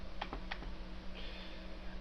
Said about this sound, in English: I'm going to hit M twice on my keyboard